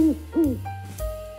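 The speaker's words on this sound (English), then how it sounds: "Owl." An owl gives two quick hoots, close and clear, set against soft background music with no speech.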